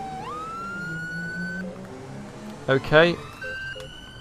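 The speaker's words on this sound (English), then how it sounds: "We need to turn our sirens off when we get close to the location" A police car siren in GTA 5 wails with a rising tone, then cuts to sharp yelping bursts before the steady wail resumes. Someone says a brief word partway through.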